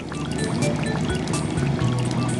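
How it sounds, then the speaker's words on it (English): Water streaming and splashing over a soapy car during a rinse, a continuous loud, close wash of liquid with shifting gurgles and spatters throughout. "It's time to rinse off the car."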